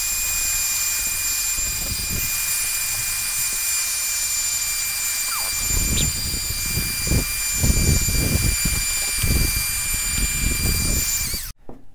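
A small handheld vacuum cleaner made for LEGO bricks runs with a steady high-pitched whine, loud and close, with bursts of rougher rattling suction as it passes over a LEGO helmet before cutting off at the end.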